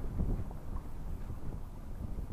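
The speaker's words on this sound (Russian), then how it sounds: "Ветер сильный очень, ребята." Steady low rumbling buffeting fills the whole stretch, like strong winter wind gusting against a microphone outdoors on an anchored boat, with no voices.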